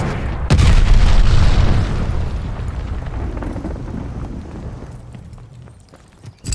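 Glide bomb explosion in Call of Duty Vanguard: one loud, sharp blast hits about half a second in, then a long rumbling roar slowly fades over several seconds, heard alone without talk.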